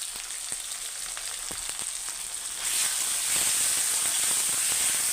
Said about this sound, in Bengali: এটাকে আমি হিট দিয়ে অল্প ভেজে নেব